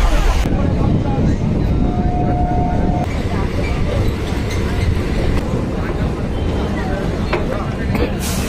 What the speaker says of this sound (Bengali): ট্রেন অলরেডি দাঁড়িয়ে রয়েছে কৃষ্ণনগর স্টেশনের 1 নম্বর